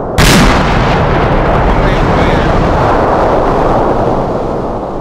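A single loud mortar impact in Arma 3 bursts near the start, then a long rumbling roar decays for several seconds, with voices under the noise.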